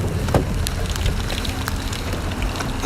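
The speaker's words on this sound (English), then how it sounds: "this rain's too bad, so I don't want to fuck up my camera." Steady rain pours down outdoors during a street rally in Gulfport, Mississippi, a dense continuous hiss of drops pattering on surfaces with a few sharper splashes, loud and close, no speech.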